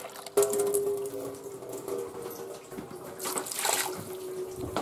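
Water poured into a Soffritto pressure cooker over fried brown onion, garlic and sliced almonds, giving a close, steady trickle and splash with a few light clinks of the pot.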